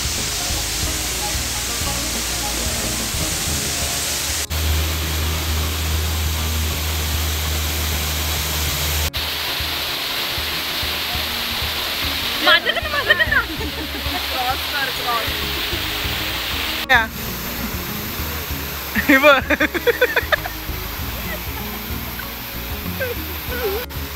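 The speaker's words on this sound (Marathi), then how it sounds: "आंबोली वॉटरफॉल" Amboli waterfall roars as a constant broadband rush throughout, with voices and a few brief clatters rising over the steady water noise.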